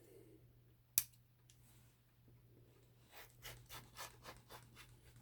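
A blade slicing through paper while collaging a divider page, heard as a sharp snap near the start and then a run of close, rhythmic rasping scrapes, fairly quiet, with no talking.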